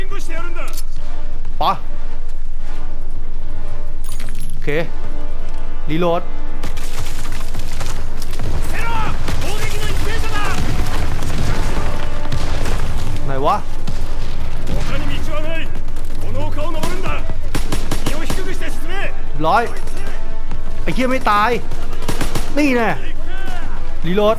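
Gunfire and explosions in Call of Duty: WWII, a dense loud battle with rapid machine-gun bursts, single shots and booms throughout, with voices shouting and talking over the combat.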